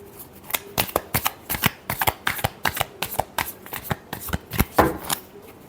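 Tarot cards being shuffled by hand, a rapid run of crisp riffling slaps in quick succession, close and clear.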